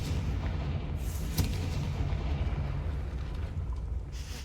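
A Confringo blast spell in the Hogwarts Legacy video game erupts as a loud, rumbling explosion with a sharp crack near the start, then a long, heavy, sustained roar that slowly fades.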